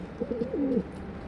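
A single soft, low pigeon coo rolls out nearby, a short warbling call against a quiet background.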